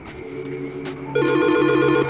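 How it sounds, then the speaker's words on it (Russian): A telephone rings in the video game Silent Hill: Shattered Memories, a steady electronic trill cutting in loudly after a second of low ambient hum and continuing to the end. "Опа, мне кто-то звонит."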